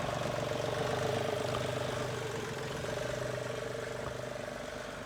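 Tractor engine labouring while hauling a heavy load of stone, a loud, steady mid-pitched drone with a throbbing rhythm that holds close and constant throughout.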